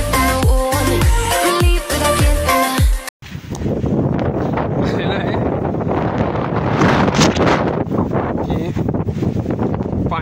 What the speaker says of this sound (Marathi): ते वाऱ्याचं प्रेशर इकडं जबरदस्त आहे